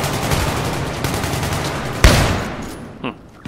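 PB2000 fire in the video game Battlefield 3, a rapid string of loud shots over the game's battle noise, with one sharp, heavier blast partway through and a trailing crack near the end.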